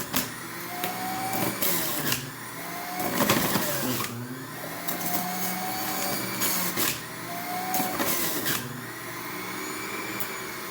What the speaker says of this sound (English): just finished juicing up the carrots